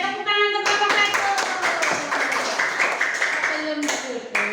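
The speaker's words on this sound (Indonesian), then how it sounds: "kalau sudah selesai tepuk tangan untuk Bapak Satu" A classroom group claps for a presenter in a burst of sharp, scattered hand claps, with voices heard alongside throughout.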